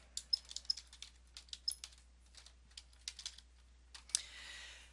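Typing on a computer keyboard: irregular bursts of light key clicks close by, with a brief busier flurry near the end, and no talking.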